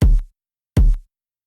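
Two booming kick drum hits, about three quarters of a second apart, from a horror trap beat with no clipper applied; each is loud and deep with a quick decay into silence.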